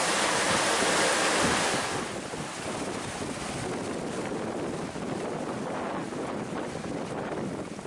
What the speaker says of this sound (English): So, we're 9 hours in, and we've got wind.